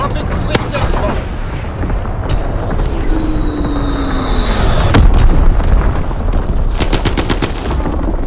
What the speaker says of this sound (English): Dropping Blitz-X bomb.